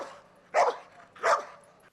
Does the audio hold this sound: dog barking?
yes